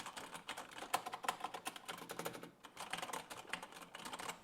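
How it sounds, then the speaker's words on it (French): Hard, fast typing on a Thermaltake Level 20 RGB mechanical keyboard with silent switches fitted with O-rings, a dense run of close, crisp key clacks in uneven bursts, with no voices. "Et là, je tape vraiment fort pour amplifier le bruit"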